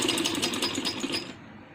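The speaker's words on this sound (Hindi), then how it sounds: "इसको डबल फोल्ड करके तो सिलाई लगाएंगे" Sewing machine stitching the double-folded hem of a handmade baby boy's dress, a fast steady mechanical whir that runs continuously and eases off toward the end, heard alone and close.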